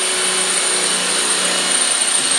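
A power drill driving self-tapping screws into a Polaris RZR XP 1000 inner fender guard, one loud continuous whirring buzz held close and steady with no talk.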